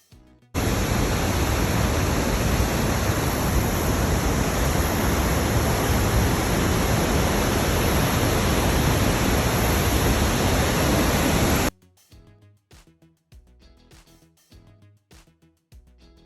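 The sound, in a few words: Niagara Falls waterfall, American Falls and Bridal Veil Falls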